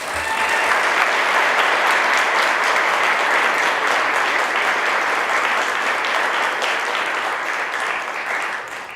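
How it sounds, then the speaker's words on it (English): A large audience at an awards convocation gives sustained, loud applause, dense clapping that holds steady for several seconds and tapers slightly at the end. "I want to give each of you that have have benefited from so many folks' generosity just to clap again"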